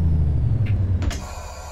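A truck in American Truck Simulator starts up with a hiss of air brakes over a loud, low engine rumble that fills the short clip.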